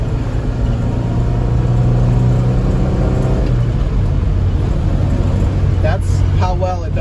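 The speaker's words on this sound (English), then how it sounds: "It is fast for a classical car, cuz I'm in third gear right now." A 1965 Volvo PV544 Sport classic car pulls in third gear with a steady, loud engine drone and road noise filling the cabin, while someone talks over it throughout.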